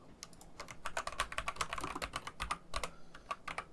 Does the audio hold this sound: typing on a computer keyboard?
yes